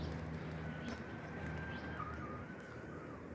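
Pigeons coo faintly outdoors in the morning, soft low calls over a quiet hiss of background ambience, distant and sparse.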